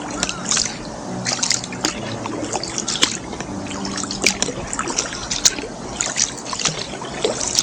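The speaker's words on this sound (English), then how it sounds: "Now perhaps you're wondering what I'm paddling with. This is actually a Greenland paddle." A kayak being paddled with a Greenland paddle along a creek, with rhythmic blade dips, trickling drips and small splashes close by, repeating at an easy pace.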